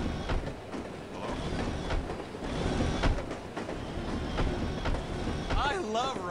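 Train travel in the video game No One Lives Forever: a continuous rumbling rail ride with rhythmic clatter and a brief wheel squeal near the end, loud and close, with a voice speaking over it.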